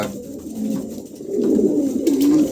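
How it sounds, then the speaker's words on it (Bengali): Pigeons offered for sale coo close by, low throaty rolling calls repeating and swelling louder toward the end, with no talking. "খুবই চমৎকার তিন পিস কবুতর"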